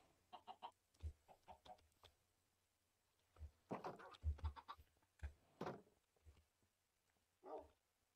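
Blocky Minecraft chickens clucking in short, scattered bursts, a few quick clucks in a row and then pauses, moderately close, with an occasional lower dog-like bark mixed in.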